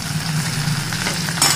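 Tomato and onion sautéing in a pan for mint chutney give a steady, close sizzle with soft stirring scrapes, loudest in a brief burst near the end.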